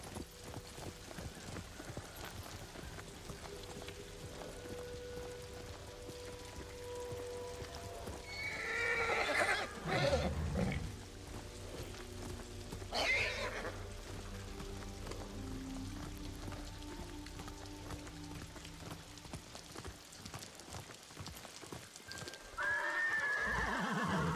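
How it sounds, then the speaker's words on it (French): Horses in the video game Ghost of Tsushima neigh loudly twice, with a whinny near the middle and another shortly after, over steady clip-clopping hooves, light rain and soft background music. "Mais ils font du bruit, les chevaux, hein."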